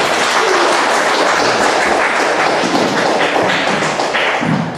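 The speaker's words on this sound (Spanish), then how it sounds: "Un fuerte aplauso para ella." Loud, sustained applause from an audience at an academic literature colloquium welcoming a speaker, steady dense clapping throughout that eases slightly at the close.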